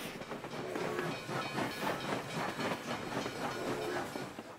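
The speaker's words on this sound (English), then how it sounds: "One made of iron, powered by steam, and running on rails of steel that crisscrossed the continent." A steam train rolls along steel rails with a steady rhythmic clatter and hissing steam, moderately loud and continuous, heard alone without talk.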